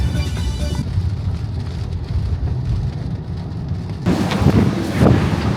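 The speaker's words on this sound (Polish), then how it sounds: "Ale się rozpadało." Heavy rain pours down outdoors in a steady, loud roar of drops spattering on surfaces, growing denser and harsher toward the end, with no voices heard.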